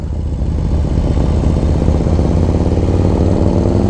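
A 2024 Harley-Davidson Street Glide with a 135 engine runs steadily, a deep, loud, continuous throbbing rumble with a pulsing low beat throughout and no talk.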